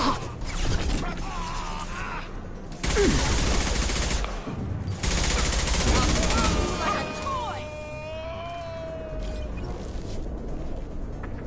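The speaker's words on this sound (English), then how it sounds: "Firing a high-impact shot." Heavy high-impact gunfire from a Mass Effect 2 battle, loud bursts of shots and booms in two main stretches with quieter combat noise, ringing tones and distant voices between them.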